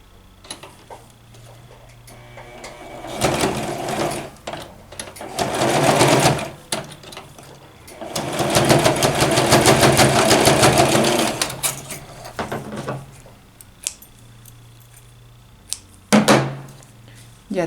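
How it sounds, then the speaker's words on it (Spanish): A sewing machine stitches a buckle onto a men's slim-fit vest in several close, rapid bursts of rhythmic ticking, the longest run lasting a few seconds, with quiet pauses and handling noises between them. "vamos a pasar una costura para fijarla"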